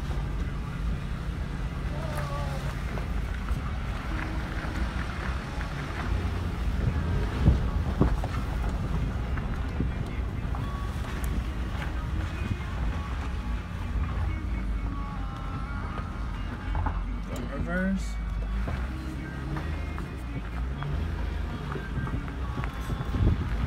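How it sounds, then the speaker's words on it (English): A 2005 Nissan Murano driving during a transmission test, a continuous engine and road rumble with wind buffeting on the microphone and faint sounds of a person in the cabin. "2005 Nissan Murano. Just want to test the tranny."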